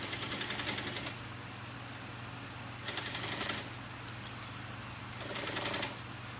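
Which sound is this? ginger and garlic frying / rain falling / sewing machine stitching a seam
sewing machine stitching a seam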